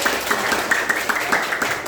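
A class of schoolchildren claps their hands together in a classroom, a steady, fairly rhythmic patter of many hands with some voices underneath.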